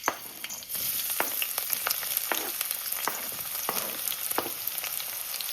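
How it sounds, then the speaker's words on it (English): Chopped onion hits hot oil in a pan with a loud crackling burst, then settles into a steady close sizzle dotted with small pops and occasional stirring clicks. "First thing I normally do is add the onion first."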